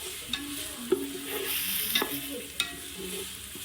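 Green chillies frying in hot oil: a soft steady sizzle broken by several sharp pops and the scrape of a spoon stirring, close and fairly loud.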